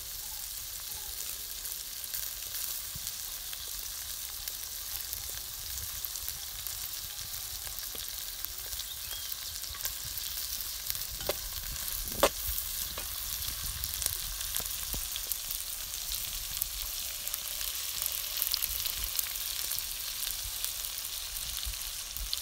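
Curry leaves frying in a pan while being stirred, a steady close sizzle and crackle running throughout with a few sharper pops near the middle.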